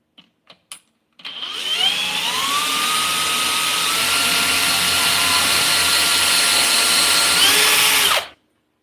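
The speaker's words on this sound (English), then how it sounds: "I'm gonna drill one hole first, and then drive in the screw" A power drill whines steadily at close range for about seven seconds after a few short taps, drilling a hole in plywood, its pitch holding then dropping as it winds down.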